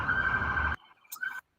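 A siren sound effect wails briefly and steadily, then drops out and returns as a fainter, shorter burst before cutting to silence.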